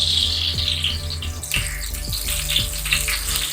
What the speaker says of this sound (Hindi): सबसे पहले हम ऑयल डालेंगे।